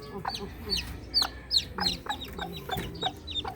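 A mother hen clucks softly while her chicks cheep in quick, high repeated peeps, close and fairly quiet, with a person talking lightly in the background.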